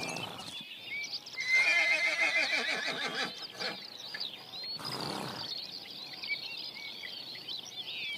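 Wild horses in the Danube Delta forest neigh and whinny loudly at close range, a long shrill call followed by a second shorter whinny, with hoof clip-clop and a steady natural background throughout.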